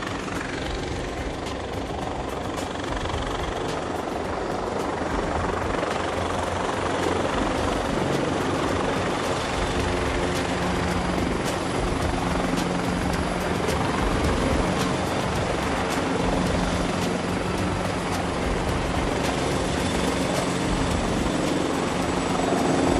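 A French Army military helicopter hovers close and loud during a troop insertion over open plain, its rotors and engine producing a steady, powerful, continuous roar and whine throughout.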